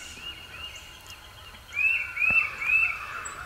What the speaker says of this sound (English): The crows are harassing a hawk.